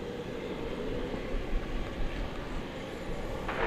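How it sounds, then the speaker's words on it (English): An American Airlines Airbus A321neo takes off from DFW bound for Phoenix, producing a steady, broad jet roar that holds at a fairly even level throughout, with no voices over it. "American Flight 2047 is ready to take off. It's an Airbus A321neo."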